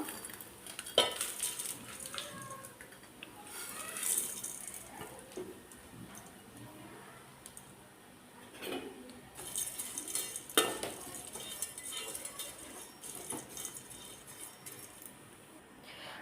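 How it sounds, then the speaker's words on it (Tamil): Vermicelli roasting in ghee in a pan, with a spoon clinking and scraping against the metal over a faint sizzle, irregular stirring strokes close by with a few sharper knocks. "இப்போ அதே நெய்யில் நம்ம சேமியாவையும் சேர்த்து நல்லா வறுத்து எடுத்துக்கலாம்"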